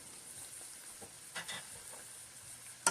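Flour cooks in fat in a Tramontina pan for beef stroganoff, giving a soft, steady sizzle with faint stirring scrapes and a few brief louder clicks, quiet and close.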